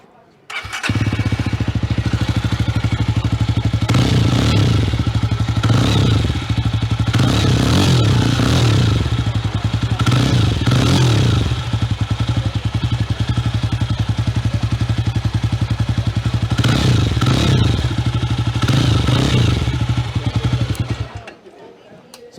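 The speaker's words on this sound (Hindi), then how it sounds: "I like the exhaust sound of this particular Java" A Jawa motorcycle with a custom exhaust fires up and idles with a loud, steady thumping beat, punctuated by several sharp throttle blips and revs before the engine cuts off at the end.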